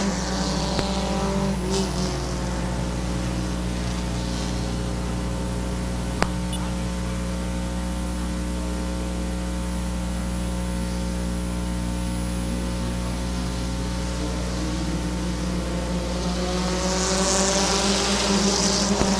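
Race cars at a speedway returning to green-flag racing near the end of the event, a constant buzzing drone of engines with layered harmonic tones and faint crowd-like wash, rising slightly at the start and end.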